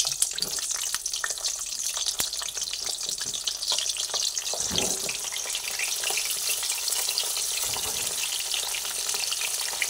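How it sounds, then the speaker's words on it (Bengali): Pointed gourd pieces frying in hot mustard oil, a continuous crackling sizzle with scattered pops and occasional stirring scrapes, close and steady throughout, no talk. "এর মধ্যে আমি পটলগুলোকে দিয়ে পটলগুলোকে ভেজে নিচ্ছি।"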